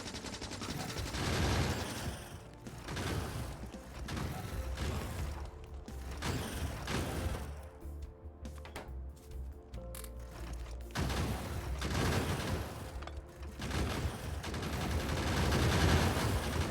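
Automated gun turrets in Factorio fire bullets at enemies in steady mechanical bursts, a clattering rattle under a continuous machinery hum that briefly thins out midway before resuming.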